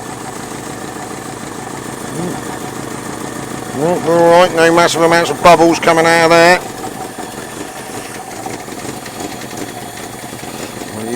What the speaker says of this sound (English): a bit of an exhaust blow down there, and that's definitely not quite 4 cylinders.